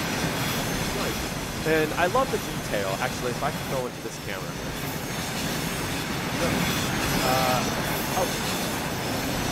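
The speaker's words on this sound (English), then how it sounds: "Enjoy this beautiful locomotive that is now on our train line." A locomotive pulling boxcars brakes on an American railroad line in Transport Fever 2, with rumbling rolling noise and faint wheel squeal running steadily beneath someone talking throughout.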